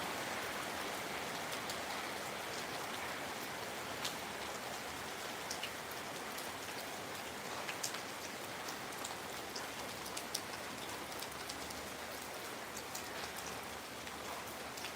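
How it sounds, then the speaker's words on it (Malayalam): Summer rain falls steadily as a soft, even hiss with scattered drips, fairly quiet and constant throughout. "മഴ വീണ്ടും"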